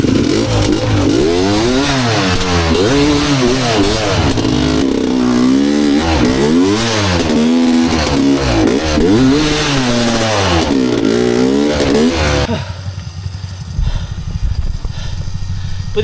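Sherco SE300 dirt bike engine revving hard on a slippery rocky, muddy mountain trail, loud and close with repeated rising and falling throttle pulses, then suddenly dropping to a quieter idle near the end.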